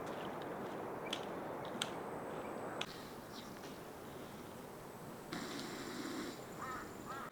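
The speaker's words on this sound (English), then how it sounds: "you have sound of birds, sound of river" Birds call faintly from a forest on the Everest Base Camp trek in Nepal, a few scattered caws and chirps over the steady rush of a nearby river.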